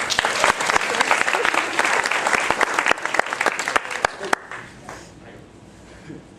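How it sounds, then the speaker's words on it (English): Wedding guests give a loud round of applause for the bridesmaids during the speeches, dense clapping from a crowd of many hands with scattered voices mixed in, then fading away toward the end. "round of applause for bridesmaids."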